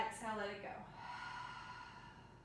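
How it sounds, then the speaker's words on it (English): A deep, audible exhale through an open mouth during a beginner breathing exercise, a soft breathy rush that trails off slowly. "Exhale, let it go."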